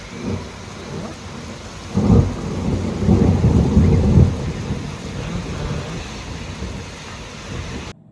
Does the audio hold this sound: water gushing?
no